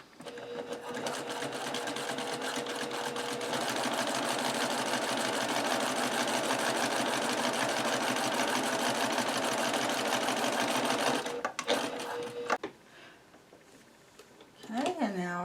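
A sewing machine top stitching a fabric Christmas cracker, a steady close whirring run of rapid needle strokes for about eleven seconds, then stopping, with brief handling noise and talk after.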